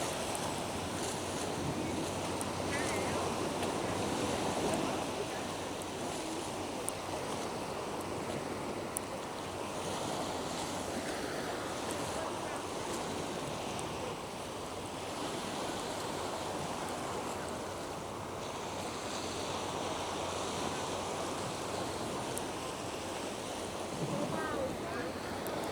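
Ocean waves wash continuously in a steady, soft roar of surf with no breaks, moderately distant and fairly faint.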